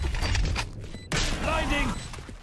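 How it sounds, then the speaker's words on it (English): In the video game Valorant, a door opens with a mechanical grinding, creaking whir that slides and rises in pitch over busy game noise, with a voice briefly audible. "Alright, closing door. Opening door."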